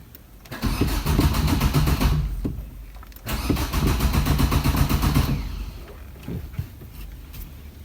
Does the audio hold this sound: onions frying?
no